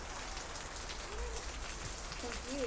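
Light rain patters steadily on a backyard permaculture homestead, a soft continuous wash of drops heard from indoors, with faint bird calls rising briefly near the end.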